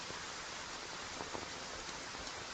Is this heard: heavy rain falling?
yes